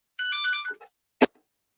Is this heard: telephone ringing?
yes